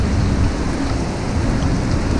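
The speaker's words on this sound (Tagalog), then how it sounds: "Sa lakas ng ulan" A constant roar of heavy rainfall drums on a roof nearby, thick and even from start to finish.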